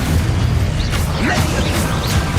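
Spell blasts in Hogwarts Legacy, a loud continuous run of booming, crackling magical bursts and whooshes with a voice calling out spells over them.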